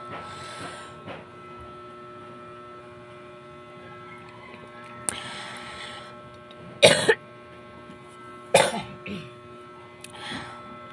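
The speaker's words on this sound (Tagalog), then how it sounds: "Hindi ko nabigil ng umubo." Someone with an itchy throat coughs several times in short, harsh bursts spread across a quiet room with a low mains hum, the louder coughs coming close together toward the end.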